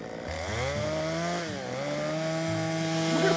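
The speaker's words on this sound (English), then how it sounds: "if the saw kicks back, this will lock into place and the chain will stop" A small chainsaw with a chain brake runs loud and close, its engine pitch rising and dipping as it is revved, with no talk over it.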